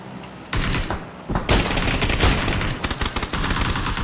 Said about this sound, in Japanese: そんな銃声させないで。